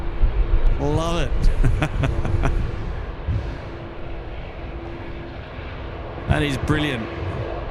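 Airbus A350 jet taking off at Sydney Airport, a heavy rumbling engine roar that is loud at first then eases, with people talking and exclaiming over it.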